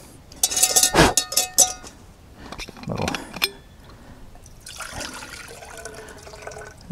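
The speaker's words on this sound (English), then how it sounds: "So let's get some water on the boil." Water poured into a cooking pot set over a charcoal fire outdoors in the woods, heard as a few splashing, trickling bursts with some clinks of the pot, fairly close, alternating with quieter stretches.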